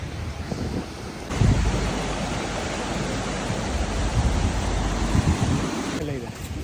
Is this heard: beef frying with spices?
no